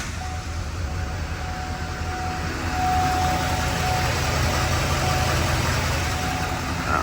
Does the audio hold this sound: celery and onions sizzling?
no